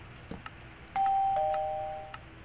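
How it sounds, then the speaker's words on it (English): A two-tone electronic doorbell in a video game chimes once, clear and bright, after a few faint clicks, the tone fading out over about a second. "Now we need to put a doorbell."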